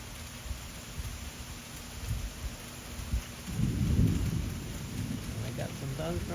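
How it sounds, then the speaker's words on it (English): Thunder rumbles low and deep through steady rain in a Nashville summer storm, swelling into a louder roll midway before easing off, with no talk over it. "I got some thunder on the video."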